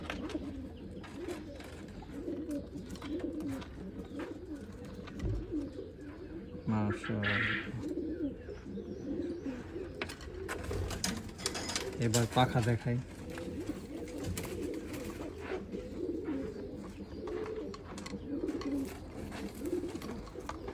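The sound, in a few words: pigeons cooing in a pigeon loft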